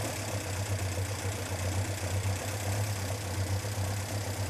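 Car engine fitted with Weber carburetors idling at just under 1000 rpm, a steady low, even hum with a faint rhythmic pulse, close and alone without talk.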